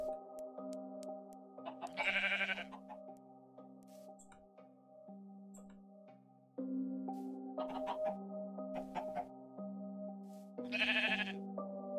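Sheep in the Minecraft video game bleat twice in short, buzzing cries, set against sustained tones of background game music, with no talking.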